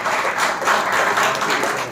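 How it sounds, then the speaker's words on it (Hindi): Brief burst of audience applause for a speaker at a World Book Day public lecture, dense clapping from a crowd in a hall, fairly loud and close. "मैं चाहूँ एक बार जोरदार तालियां डॉक्टर बीके संजय जी के लिए बजाएं"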